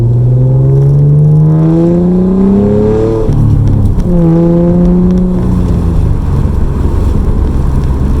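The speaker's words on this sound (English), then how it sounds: "Listen to this exhaust." A Nissan Altima Coupe 3.5 SE exhaust revs loudly up close, rising in pitch twice with a throaty roar, dropping between pulls and settling into a rumbling idle.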